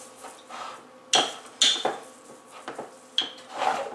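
A rolling pin spreads ghee-coated sohan papdi dough on a board with several uneven rubbing strokes and soft knocks, fairly close and alone.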